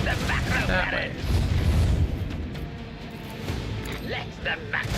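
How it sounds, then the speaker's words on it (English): Macro cannons firing in Warhammer 40K: Rogue Trader, a spaceship battle game: heavy low booms roll continuously under a dense rumbling bed, with speech and music running over them. "Let the macro cannons sing their twisted song."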